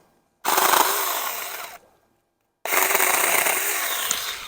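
A Saker 4 inch 20V mini battery chainsaw cuts tree branches in two loud, close bursts of high-pitched whining, with a brief silent pause between them.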